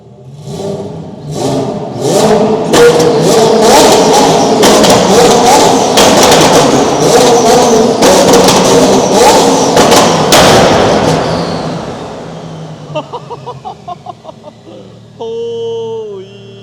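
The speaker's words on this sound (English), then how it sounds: "Parking garage time. This car should be loud in here." A twin-turbo AWD Lamborghini Huracan STO revs hard inside a parking garage, loud rising engine roars echoing off concrete, then a string of sharp short blips and a final burst.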